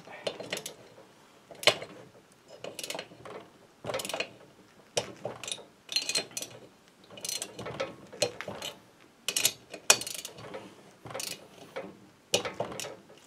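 Cylinder bolts on a motorcycle being tightened with a torque wrench, a series of close ratcheting clicks in short repeated bursts, interspersed with someone speaking.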